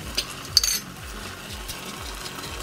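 A spoon stirs a marinade of sugar and black pepper in a bowl, making quick rhythmic scraping swirls with a couple of sharp clinks near the start, close and fairly quiet, with no voices.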